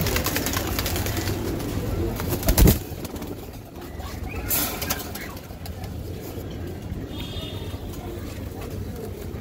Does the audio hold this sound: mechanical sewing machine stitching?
no